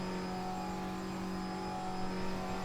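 Front-wheel-drive Audi TT race car in a racing video game, its engine holding a steady high-pitched droning note with a slight rise near the end, loud and continuous, with no voices.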